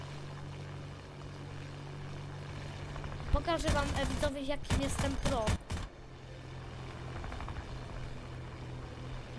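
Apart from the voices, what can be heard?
airplane flying in the video game War Thunder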